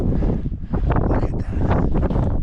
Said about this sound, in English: That wind is absolutely savage.